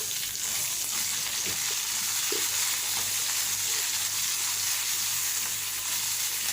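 Mudakathan greens sautéing in a pan, a steady close sizzle and crackle of frying with occasional soft stirring scrapes, continuous throughout with no voices.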